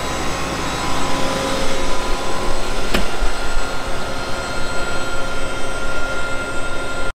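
A Fendt 1042 tractor engine held at full throttle while pulling a Case IH planter, a loud, steady droning roar with a constant tone and no break in the sound.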